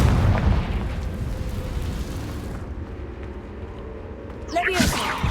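A Confringo fire spell in Hogwarts Legacy bursts with a heavy boom and rumbling blast that decays, followed near the end by a sharp crackling magical flare, all loud and close.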